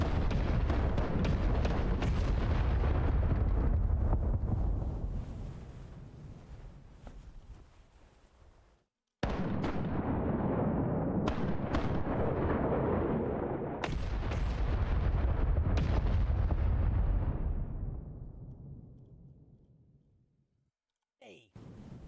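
Ship cannons fire in a sailing video game, two long roaring broadside volleys of overlapping booms, each rumbling and fading over several seconds, with a sharp crack near the end.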